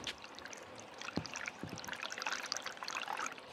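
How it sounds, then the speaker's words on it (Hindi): Water pumped by a motor runs into a storage tank, giving a steady, moderately loud splashing trickle throughout with a few brief knocks near the start. "मोटर अभी तक टंकी भरा नहीं है, जा रहा है पानी, पानी तो जा रहा है"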